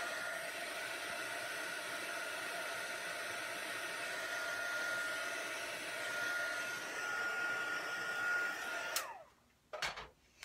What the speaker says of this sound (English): if you preheat your heat tool, it should go really quick.